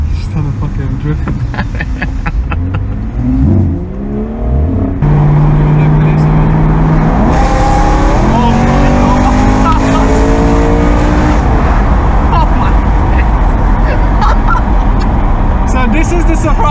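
BMW M3 engine revving hard while drifting, a loud sustained high-pitched wail with rising and falling revs and tire noise, people shouting excitedly over it.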